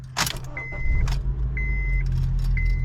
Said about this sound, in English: just like the other car, starts right up and has no issues of starting